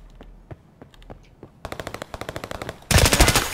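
Gunfire in Escape from Tarkov: scattered single shots give way to a rapid automatic burst, then a louder, denser burst of fire at close range, with no talk.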